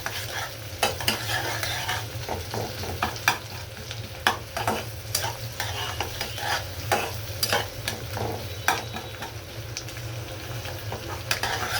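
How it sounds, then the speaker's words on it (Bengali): Onions fry lightly in a pan for a Bangladeshi beef liver and potato curry, a low steady sizzle broken by repeated scraping strokes of a stirring spatula, close by with no talking. "পেঁয়াজটা হালকা বেরেস্তা করে নিব।"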